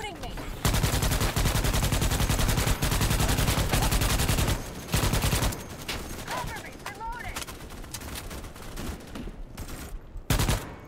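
Rapid automatic gunfire in the video game Starship Troopers: Extermination, dense, continuous bursts from close by with brief pauses, and a voice talking faintly underneath.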